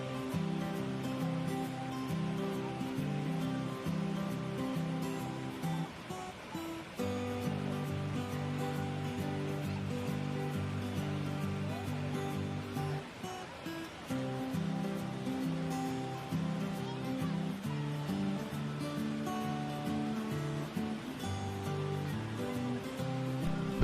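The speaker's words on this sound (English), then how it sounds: "Walking into the cave, you are standing behind the crumbling water" Sera Falls, a waterfall in Sri Lanka, heard from the cave behind the falling water: a steady, fairly loud rushing roar that continues unbroken, with no voices.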